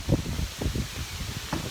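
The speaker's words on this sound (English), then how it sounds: "Ooh, we've got some wind." Gusty outdoor wind buffets the microphone in low, irregular rumbling bursts, with faint rustling of blowing fabric and sewing materials from hooked-rug work nearby; no one speaks.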